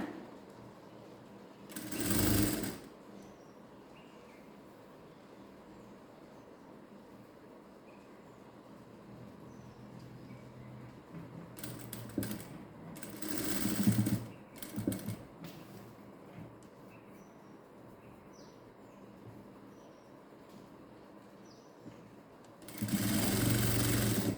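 A sewing machine stitches fabric along a neckline in short, loud bursts separated by long quieter stretches, the motor whirring close by with no one speaking.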